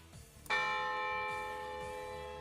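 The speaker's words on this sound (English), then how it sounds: "add bell sound effects, which I know people are kind of iffy on sound effects in classic levels" A bell sound effect in a Geometry Dash level rings once with a bright metallic strike, its many tones sustaining and slowly fading over a faint rhythmic game track.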